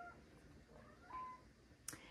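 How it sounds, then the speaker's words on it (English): A house cat meows faintly in the background, a couple of short soft cries with a brief sharp click near the end, no speech. "y'all hear that? That's my cat in the background."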